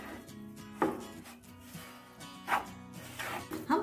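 Flour and edible gum roasting in ghee in a pan for gond dry-fruit laddoos, stirred with a spoon that gives a few scraping knocks against the pan over soft sizzling.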